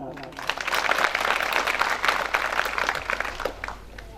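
Crowd applause at a rural development inauguration ceremony in Jaulkheda, a loud, dense sustained clapping from a large audience, with a voice speaking over it.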